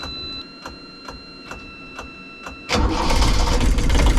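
A rhythmic ticking electric fuel pump clicks steadily, then a Catalina 30 sailboat's diesel engine cranks and catches on glow plugs, bursting into a loud, continuous rumbling idle.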